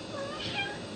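A one-week-old kitten gives a thin, high, drawn-out meow, close and alone, over a faint steady background hiss.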